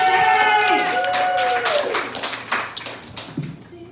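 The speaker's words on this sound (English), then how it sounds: "Can we get some claps going right now" Live-show audience clapping and cheering as a performer named Billie Jean is brought to the stage, loud and dense at first, with a sustained tone early on, then thinning into scattered claps under voices.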